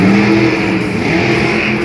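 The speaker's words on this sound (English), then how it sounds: "Kristen Hope out here driving this Wolf's Head truck here in Philly" Wolf's Head monster truck driven by Kristen Hope at a Monster Jam stadium show in Philadelphia, its engine roaring steadily and loud, a continuous revving drone across the whole stretch.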